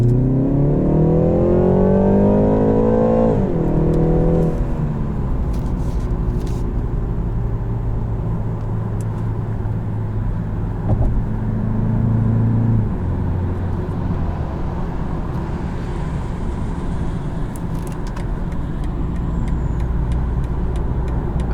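A 2019 BMW 330i xDrive with a 2-liter four-cylinder engine revs up hard, pitch climbing then dropping at a gear change, and keeps pulling loudly and steadily from inside the cabin.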